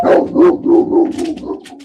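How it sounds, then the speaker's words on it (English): A dog barks several times in quick succession, close and loud, with a whiny, yelping edge between barks. "I think he's barking"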